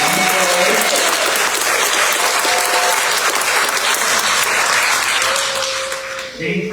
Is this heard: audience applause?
yes